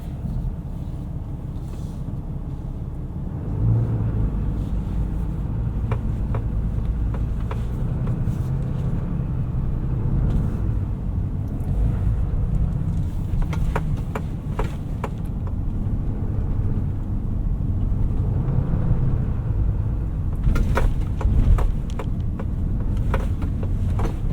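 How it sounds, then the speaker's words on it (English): A 2021 Ram 3500 dually turbo diesel driving in four-wheel drive over a bumpy road, heard from inside the cab as a steady loud low rumble with occasional knocks and rattles from the rough surface. "I'm gonna try out the 4-wheel drive on this bumpy road"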